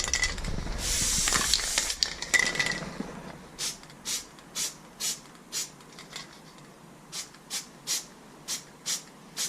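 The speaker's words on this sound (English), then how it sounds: "This is what's known as the manual spray, as opposed to the automatic spray shown here." A spray can worked by hand: one long hiss at the start, then a string of short evenly spaced bursts, close and fairly quiet, with no talk.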